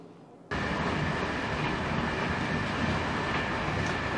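A train on the way to Porto rolls along steadily, heard from inside as a loud, continuous rumble with faint rattling that begins abruptly after a brief quiet moment.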